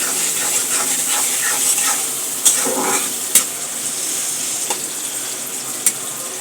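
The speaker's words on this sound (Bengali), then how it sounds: "এই যে এবার মরিচ দিয়ে নাড়াচাড়া করব।" Onion and green chili stir-fried in a pan, with a loud steady hissing sizzle and a few sharp scrapes and taps of a spatula against the metal.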